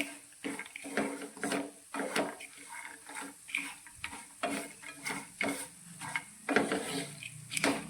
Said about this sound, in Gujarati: નારિયેળના છીણને બધી જ વસ્તુ સાથે સારી રીતે શેકી લઈશું